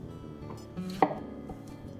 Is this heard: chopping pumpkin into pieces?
yes